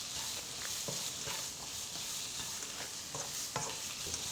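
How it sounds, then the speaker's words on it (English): Shrimp sizzling in a pan of frying onions, a steady moderate hiss broken by repeated clicks and scrapes of stirring, no talk. "And then we'll add the shrimp in."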